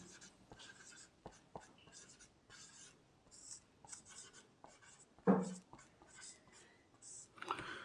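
Chalk or a marker writes on a board during a geography lecture on the rock cycle, with quick scratchy strokes and taps coming in bursts, close and fairly quiet, and faint voice sounds now and then.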